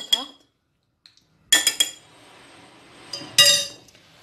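Small ladle clinking against dishes in a kitchen: a lone tap, then two clustered bursts of bright metallic clinks with short ringing tails, close and fairly loud, without talk.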